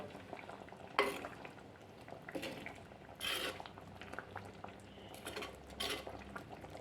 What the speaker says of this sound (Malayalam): നമ്മുടെ കറിയൊക്കെ നന്നായിട്ട് തന്നെ തിളച്ച് കുറുകി വന്നിട്ടുണ്ട്